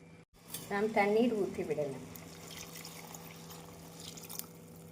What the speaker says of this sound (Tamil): நாம் தண்ணீர் ஊற்றி விடலாம்